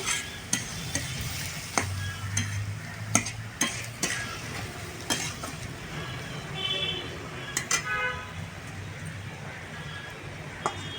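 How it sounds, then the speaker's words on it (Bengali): Cumin powder stirred into a frying spice masala in a pan, with repeated sharp clinks and scrapes of a large spoon over a low sizzle, close and moderately loud. "বড় চামচের এক চামচ জিরের গুঁড়ো দিয়ে দিয়েছি মশলাকে ভালো করে নাড়াচাড়া করে নেব"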